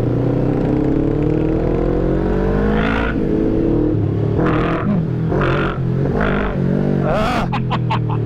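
A 650 motorcycle with an open pipe exhaust drones steadily up close while riding, its engine note rising and falling through revs, with a rider's voice talking over it.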